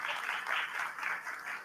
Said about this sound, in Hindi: जोरदार तालियां आप सभी की होनी चाहिए।